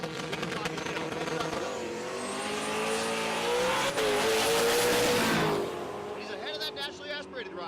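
Drag cars at Tulsa Raceway, a stick-shift car and a naturally aspirated car, roar off the line together, engines climbing through rising, shifting pitches as they pull away down the strip, with an announcer talking over the noise.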